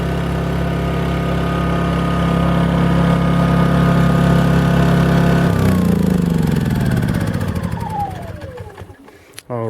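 A new Owens Cummins 2200i inverter generator runs with a steady, loud hum, then is switched off and winds down, rattling to a stop near the end.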